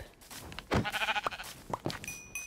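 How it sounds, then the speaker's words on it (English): A sheep bleats once, wavering and fairly clear, over faint background noise, followed by short soft clicks. "Sheep."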